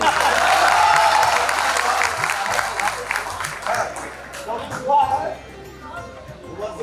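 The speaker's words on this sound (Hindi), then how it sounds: "अगर आपको हमारा कवि युवा लग रहा है तो ताली बजा दीजिए।" Clapping from the audience at a poetry gathering (kavi sammelan) in Ayodhya, loudest at the start and tapering off, with a voice speaking over the applause and a low steady hum underneath.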